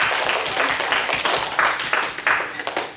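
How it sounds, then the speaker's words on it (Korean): A church congregation at a Korean Baptist service in Abilene breaks into dense, sustained applause, the many hands clapping in loose, swelling waves that fill the room. "하나님께 영광의 박수 올려드리겠습니다"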